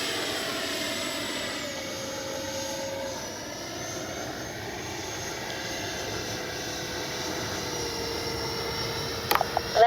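A FlyFans L-39 camo RC model jet makes a low pass with landing flaps down, a steady ducted-fan whine holding level throughout, with a few sharp clicks near the end.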